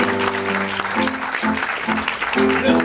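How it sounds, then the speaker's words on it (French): Audience applauding as an improv performer is introduced at a Paris improv festival, a sustained wash of clapping with low musical tones running underneath. "Oui, vous pouvez l'applaudir."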